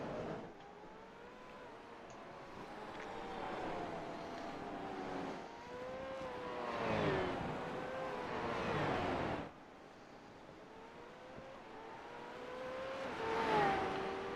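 Engine of a V8 Supercar race car in the Nxtlvl Racing video game, a continuous high-pitched drone that rises and falls through gear changes and revving over several seconds, with no talk.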